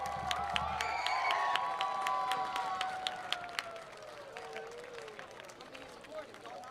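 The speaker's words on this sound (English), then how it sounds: "please give a big round of applause for our Hatter seniors" Crowd applause and cheering for Hatter seniors and their families at a high school football game, a broad spread of clapping and scattered shouts that tapers off gradually.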